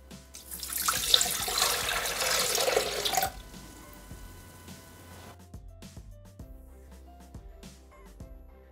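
Tangerine juice pours into a Thermomix bowl with a bright splashing stream for about three seconds, then stops, leaving faint drips and clinks in a quiet kitchen with no speech.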